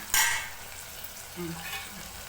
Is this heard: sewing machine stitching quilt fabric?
no